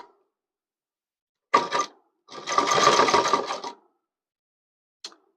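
A sewing machine stitches the seam of a child's pathani kurta in two short runs, a quick burst followed by a steadier run of about a second and a half, with a brief tap near the end and quiet between.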